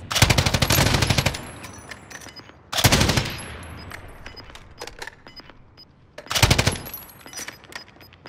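Machine-gun fire in a Call of Duty battle royale match comes in loud, dense bursts near the start and around three and six and a half seconds, with scattered fainter distant shots between them and no voices.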